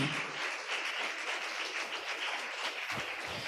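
A church congregation claps steadily together during a Tamil service, a dense wash of hand claps at moderate distance with no talking.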